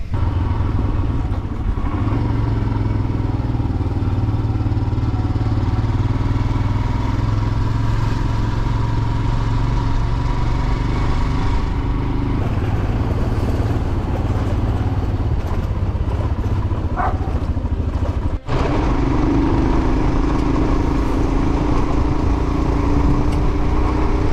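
A motor vehicle drives steadily along a mountain pass road toward the 14 Color Mountains. The engine drone stays loud and continuous, with road clatter and one brief knock.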